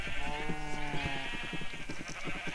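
Sheep in a video game bleat repeatedly, with several overlapping wavering calls that stay close and fairly loud throughout, set against a busy game backdrop.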